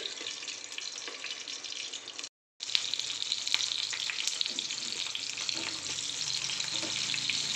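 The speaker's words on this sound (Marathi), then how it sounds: "सगळ्यांना व्यवस्थित फ्राय व्हायला पाहिजेत." Green chillies frying in a pan, a dense, hissing sizzle that runs steadily and close, broken by a brief silent gap, with faint stirring scrapes and no speech.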